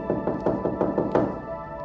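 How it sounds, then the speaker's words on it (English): Someone knocks on a door in a quick burst of about nine sharp raps, close and loud, then stops. "I remembered the knocking on the door and not answering it"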